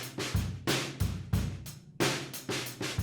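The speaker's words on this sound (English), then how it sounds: "And then I've got the room mics of the drum kit, which sound like this." Drum kit captured through distant room microphones, with loud roomy hits landing in a steady groove roughly every third of a second, cymbal wash filling the top and kick and snare thumps below, no voices.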